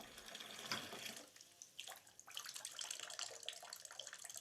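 Bath water for a badly injured, bandaged patient runs and splashes softly. The flow is faint and uneven, with a few brief louder splashes and pours as the water is handled.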